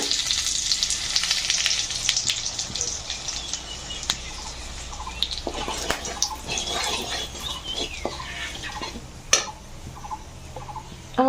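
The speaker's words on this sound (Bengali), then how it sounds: "ওই তেলে আমি ঘি দিয়ে দেবো এক চামচ থেতে করে রাখা গরম মশলা দিয়ে দেবো আমি ঘিয়ের মধ্যে" Crushed garam masala sizzles in hot ghee and oil for a paneer rezala, a steady close frying hiss running throughout with small crackles and a few sharp utensil clinks near the end.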